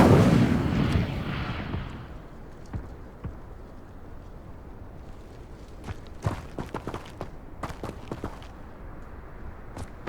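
The Incendio fire spell from Hogwarts Legacy bursts out as a loud fiery whoosh at the start, then fades into scattered sharp clicks and thuds from the game.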